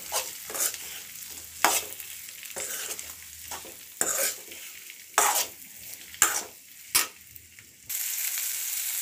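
Bitter gourd pieces sizzle gently in a pan as a spoon stirs them, with several sharp scraping strokes against the metal over a soft, continuous frying hiss, close by with no talk.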